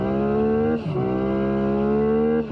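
Hyundai Ioniq 6 N, a heavy 641bhp electric saloon, accelerating hard. A loud, steady synthetic engine-like tone climbs in pitch, dips briefly as if shifting gear, then rises again, heard from inside the car without talk.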